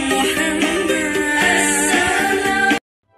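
Ramadan 2019 song streamed from YouTube, a full, dense music mix with steady rhythm that plays loudly for under three seconds and then cuts off abruptly to silence.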